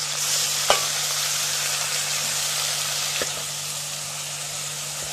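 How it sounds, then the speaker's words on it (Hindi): Onions sizzle steadily in a hot pan, with a couple of brief scraping clicks from stirring; no voices. "इसको हम साथ साथ प्याज को भूनते रहेंगे"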